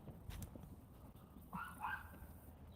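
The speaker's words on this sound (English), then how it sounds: "So now he's barking because he wants me to come over and see him." A small dog next door barks and yips a few times in short, high bursts, heard at a moderate distance against quiet outdoor background noise.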